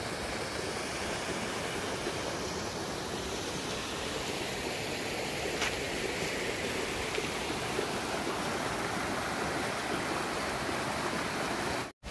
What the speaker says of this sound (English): finally found a GD waterfall